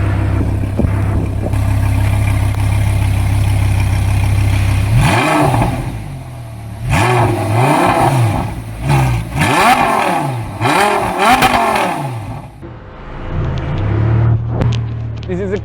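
A Ferrari F430 with an iPE exhaust idles loudly, then is blipped through a series of sharp, rising and falling revs, close and very loud, before dropping back to idle.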